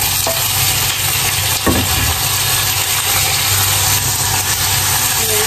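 Chicken pieces sizzle loudly in a pan with onion and garlic for Filipino chicken afritada, a constant close frying hiss broken by scraping stirs and a sharp clack of the utensil.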